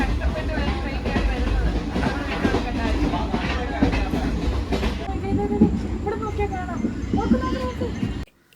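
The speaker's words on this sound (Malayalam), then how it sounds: "ഭയങ്കര പതുക്കിയാണ് ട്രെയിൻ പോകുന്നത്" A train moving slowly uphill near Dudhsagar rumbles along steadily with a continuous low roar and faint rhythmic clatter, while people chatter over the noise throughout.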